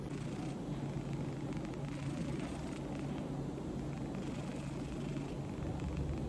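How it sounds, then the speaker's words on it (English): A soft, continuous low purr rumbles steadily throughout, faint and close, with no voices. "You wanna hear him purr?"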